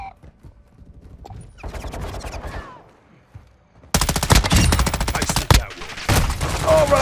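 Rapid automatic gunfire in Call of Duty Modern Warfare II (2022), loud close bursts that grow heavier after a quieter stretch of game noise and talk.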